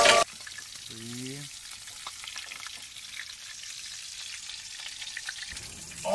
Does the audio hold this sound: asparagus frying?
yes